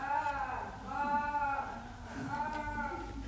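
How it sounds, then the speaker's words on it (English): Sheep bleat repeatedly at a moderate distance, wavering cries rising and falling in a few separate calls. "Sounds like sheep."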